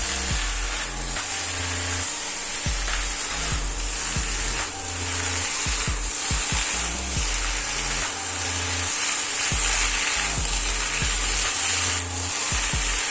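Beef chilli sizzles in a pan while being stirred, a continuous loud fry with scattered scraping clicks from the spoon against the pan, over a low musical background and no voices.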